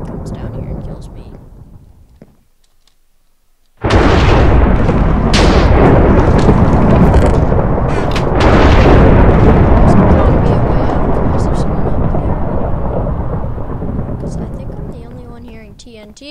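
TNT explodes in the Minecraft video game with a sudden loud boom after a brief silence, followed by a long rumbling roar that slowly fades over about twelve seconds, while a player talks before and during it.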